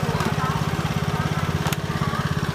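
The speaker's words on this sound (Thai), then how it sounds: "โชว์เป่าลมให้หน่อยได้ครับผมโชว์เป่าลม อ่าตัวเป่าลมนะครับ" A small gas-engine leaf blower that can also vacuum leaves runs steadily at an agricultural fair booth, a loud, continuous buzzing drone with a fast regular pulse.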